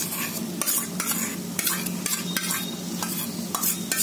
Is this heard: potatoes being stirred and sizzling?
yes